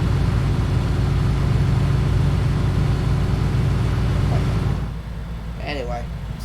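An American school bus engine in the video game OMSI 2 holds a loud, steady revving drone, then drops off sharply near the end.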